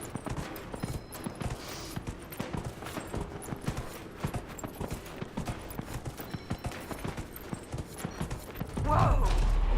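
A horse gallops in the video game Dragon Age Inquisition. Rapid, rhythmic hoof clip-clops run steadily throughout, with a louder burst of sound near the end.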